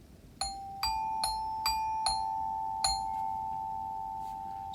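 Bell-like tones of two notes, sol and la, struck one after another: a cluster of quick notes, then a pause and a final note left ringing, bright and clear with no voices.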